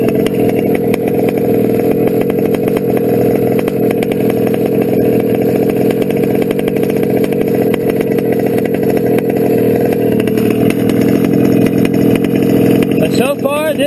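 A small gas engine fitted with a modified carburetor and OBR/RCR mods runs continuously at a loud, steady, buzzing high idle close by, with a brief rise near the end.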